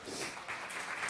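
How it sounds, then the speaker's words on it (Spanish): A congregation applauding during a Spanish-language prayer and worship service, a soft, distant wash of clapping that holds steady throughout. "¿Cuánto le dan un aplauso al Señor?"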